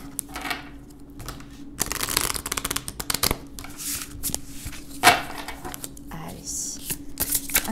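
Oracle cards are shuffled and drawn, with crisp riffling, flicking and slapping of cards up close in irregular bursts while someone talks softly over them.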